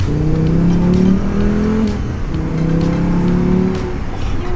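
A Mk2 VW Golf GTI with a swapped five-cylinder engine revs hard, loud and close, with two rising pulls that climb in pitch, a brief drop between them, and a raspy, rally-car-like growl.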